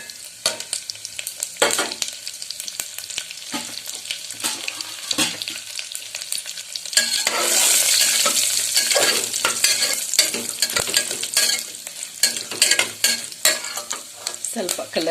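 Raisins, cashews, cinnamon, cumin and a bay leaf fry in hot oil for ghee rice, crackling and sizzling up close while a spoon stirs and scrapes the pan, the sizzle surging louder midway.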